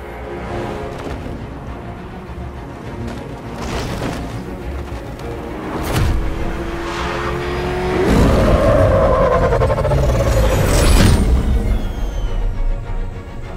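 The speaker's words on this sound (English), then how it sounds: "How are you going to stop that car?" Car chase in the Batman: Arkham Knight video game, with engines roaring and revving continuously, heavy thuds and crashes, and a rising screech midway as the action grows louder toward the end.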